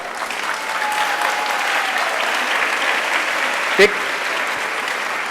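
An audience at a stage hypnosis show claps, producing dense, steady applause that holds at an even level for the whole stretch, with one sharp knock partway through.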